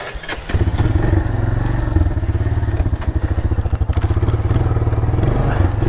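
A Honda Fourtrax 300 ATV engine idles close by, a loud, low, rhythmic chugging thump with a slightly uneven pulse after a short start, with no one talking.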